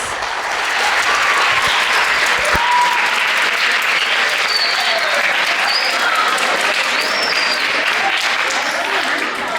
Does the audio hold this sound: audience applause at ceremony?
yes